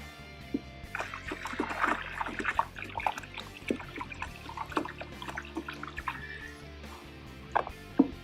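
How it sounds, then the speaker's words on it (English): Floor stripper chemical is poured into a bucket of water, giving scattered close splashes, drips and trickles over several seconds with a faint low hum behind them. "We have added half a gallon of stripper to 2 gallons of water to make this dilution effective"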